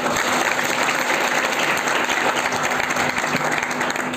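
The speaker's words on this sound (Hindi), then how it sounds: "ताली बजा के बोला थोड़ा इंगित करें।" A crowd applauds steadily and loudly at a Hindi poetry gathering in Kanker, dense clapping sustained throughout with no pauses.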